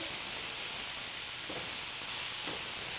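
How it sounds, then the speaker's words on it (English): Shrimp stir-frying in a hot pan with a dry spice mixture, a constant loud sizzling hiss with a couple of brief stirring scrapes. "Return the shrimp to the pan and stir fry until the prawns are heated through"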